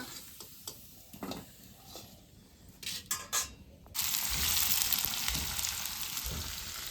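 Oil sizzles in a kadai, starting with scattered ticks and clinks of cookware, then breaking into a loud, continuous frying hiss that holds steady.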